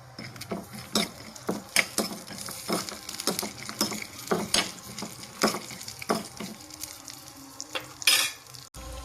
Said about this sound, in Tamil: முந்திரி திராட்சை வறுத்தாச்சு